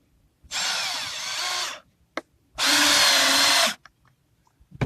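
A power drill drives screws into floor boards in two long whirring bursts, each lasting over a second, with short clicks and knocks between them, close and loud.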